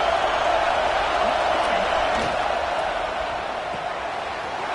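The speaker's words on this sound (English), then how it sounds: "It's early, but this crowd is fired up. Listen to this noise here." Stadium crowd at an early-season college football game, a steady dense roar of cheering that fills the whole clip at constant loudness with no single voice standing out.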